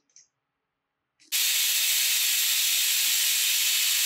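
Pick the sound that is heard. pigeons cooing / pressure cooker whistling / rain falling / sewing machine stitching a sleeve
pressure cooker whistling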